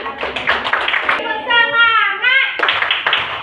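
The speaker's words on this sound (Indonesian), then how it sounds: "tepuk tangan untuk kita" Students clapping together in a classroom, a few quick rhythmic claps at the start and again at the end, with a voice and a teacher's voice speaking in between.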